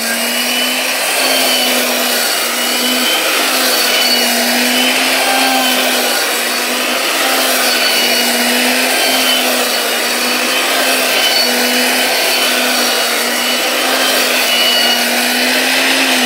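A 2000 W mixer grinder spinning at 28000 RPM while it minces a whole chicken with bones, giving a loud, steady high-pitched motor roar with a faint wavering hum that runs the whole time without pause.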